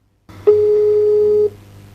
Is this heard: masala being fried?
no